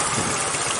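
A motorcycle engine runs with a steady, dense drone, close and loud, holding even throughout with no variation.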